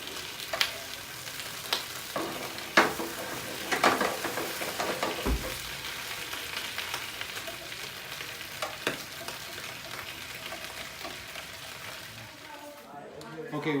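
Sausage and peppers sizzle and fry on a griddle while Tijuana-style tacos are made, a steady crackling hiss with occasional scrapes and taps of a turner, and people talking over it.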